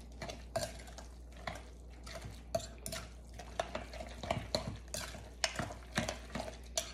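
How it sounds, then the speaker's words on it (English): Casserole ingredients for a pineapple casserole stirred in a mixing bowl, a spoon scraping and clinking against the sides in steady, close strokes with no talking. "I'm gonna mix this up really good"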